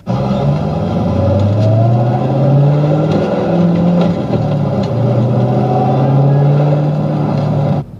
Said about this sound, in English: So what if they could add simulated engine sound?